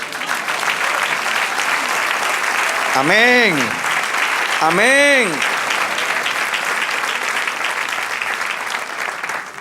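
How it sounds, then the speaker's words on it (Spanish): Sustained, loud congregational applause for the Lord during a church sermon, a dense wash of clapping throughout while two voices call out briefly over it. "Dale un aplauso al Señor."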